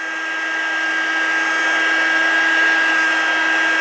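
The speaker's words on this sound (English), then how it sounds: "I got out my heat tool." A craft heat tool blows continuously to dry a paper spider web doily, a steady whooshing hiss held at a constant level for the whole stretch.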